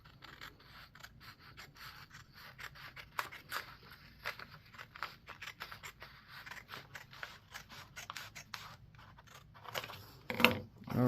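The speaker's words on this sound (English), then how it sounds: "take your scissors and cut across that line" Scissors cutting across a drawn line on a workpiece, a rapid series of rubbing, scraping snips close by, fairly quiet, with a louder cut near the end.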